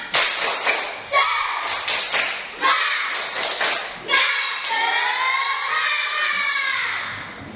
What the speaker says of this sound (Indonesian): Tepuk semangat dulu